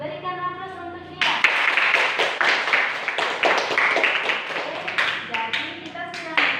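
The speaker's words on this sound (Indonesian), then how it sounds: "Jadi berikan aplaus untuk dia." Students in a junior high group counseling session burst into loud, quick clapping after a teacher speaks, the applause continuing steadily with voices mixed in.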